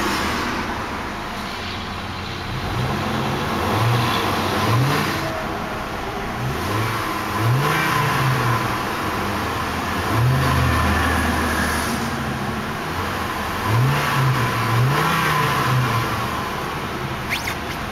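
Chevrolet Colorado pickup engine idles steadily up close, then revs several times in a row, each rise swelling and dropping back to the idle rumble.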